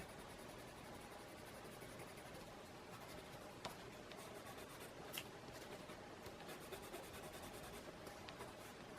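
A white pencil drawing on paper for an ink illustration of a sky scene gives a steady, close scratchy rubbing that runs throughout with small irregular strokes.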